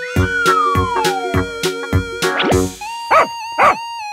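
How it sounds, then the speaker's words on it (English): A dog gives two short, bright barks near the end, following a bouncy cartoon-style musical sequence of plucked notes and a sliding boing. "Dog."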